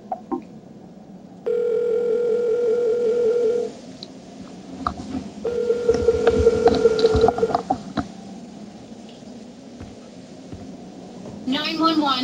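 Two long steady telephone ringback tones from a 911 call in Silent Hill: Shattered Memories, each lasting a couple of seconds with a pause between, while a person talks over the game audio.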